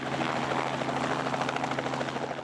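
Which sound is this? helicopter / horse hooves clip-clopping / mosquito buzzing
helicopter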